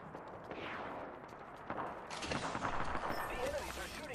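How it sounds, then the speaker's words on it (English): Gunfire from the Apex Legends battle royale video game crackles in a dense burst of repeated shots that swells louder midway, heard under ongoing talk. "The enemies are shooting at me."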